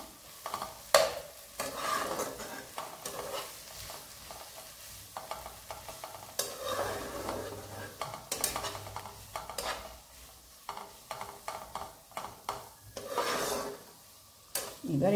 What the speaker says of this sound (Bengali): এবার এটাকে ভালো করে নেড়ে চেড়ে